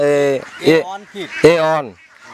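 Two-and-a-half-month-old ducks on a duck farm quack and honk loudly and close, several harsh overlapping calls in quick bursts with no talk.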